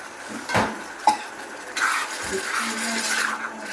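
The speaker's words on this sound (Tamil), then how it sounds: "ஒரு 1/2 டம்ளர் தண்ணி ஊற்றிருக்கிறேன்" Half a tumbler of water is poured into a pan of frying prawn masala for a prawn fry, with splashing, gurgling pours and a light sizzle, plus a few clinks and stirring sounds.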